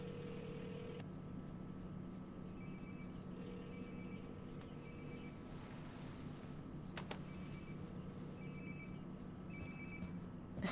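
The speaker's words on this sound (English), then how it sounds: "Sounds like my phone is definitely nearby." Mobile phone ringing in the video game Life is Strange Remastered: a repeating electronic ring tone sounds in short bursts over a steady low game ambience, moderately close and without talk.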